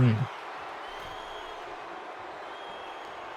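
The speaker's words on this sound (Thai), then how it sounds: "ออกคนดูโหใครครับ เสียงเหมือนโห น่าจะโหอังเรมั้งตัวร้าย" An arena crowd boos at WrestleMania III during the Hulk Hogan vs. Andre the Giant championship match: a sharp burst at the start, then a steady, distant wash of crowd noise that continues throughout.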